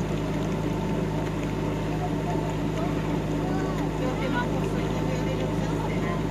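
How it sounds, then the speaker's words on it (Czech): A slim racing boat passes on open water, its steady motor drone continuous and fairly loud against wind, with people talking nearby throughout. "Je štíhlá loď, to je nějaká závod."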